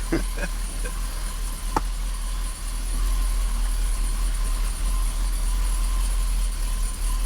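A Nissan President V8 engine runs steadily in a long column-shift sedan, giving a low, even rumble under a constant broadband cabin hum with no clear revs.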